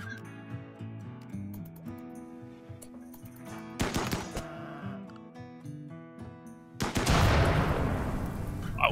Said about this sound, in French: arrêtez de vous tirer dessus